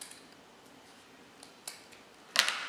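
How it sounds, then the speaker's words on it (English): Scissors snip ribbon at an angle while making a wreath, with faint small clicks followed by one sharp, close cut near the end. "you take your scissors and you cut at an angle"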